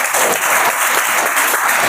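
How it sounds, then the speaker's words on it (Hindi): A classroom of students bursts into loud, dense clapping, a continuous close-up patter of many hands applauding themselves. "अपने लिए तालियां बजाओ, शाबाश।"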